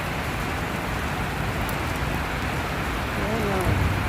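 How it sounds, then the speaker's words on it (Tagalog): Steady rain pours down in Saudi Arabia, a continuous close hiss of drops striking surfaces, unbroken for the whole stretch with no voices. "Sarap ng ulan."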